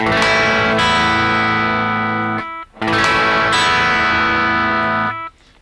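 Two strummed chords on an electric guitar with a clean, effected tone, each ringing out for over two seconds before a brief gap, no voices.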